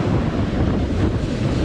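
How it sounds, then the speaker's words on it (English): Ocean waves on a Florida beach wash in with a broad rushing surf, mixed with heavy wind buffeting close to the microphone, in a short, loud burst. "See if we get a wave coming up here."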